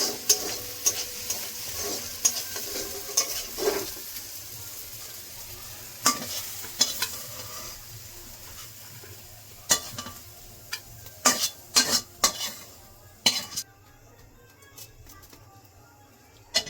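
Paneer frying in a pan while being stirred, with a steady low sizzle under scattered sharp scrapes and clinks of a spatula against the pan, close and moderately loud, with no talking.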